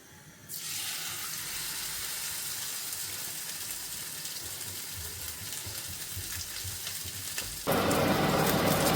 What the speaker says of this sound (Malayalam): ഞാൻ പിന്നെ തവ ഫ്രൈ ചെയ്തെടുക്കാമെന്ന് വിചാരിച്ചു